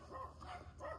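Dogs barking indoors at another dog passing outside, heard as faint, muffled barks and yips in a brief one-second burst.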